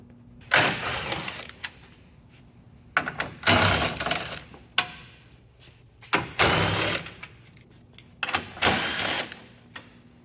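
Four 10mm bolts come off a Chevy Silverado front bumper, each removed in a separate burst of loud whirring from a power tool. Quiet gaps fall between the bursts.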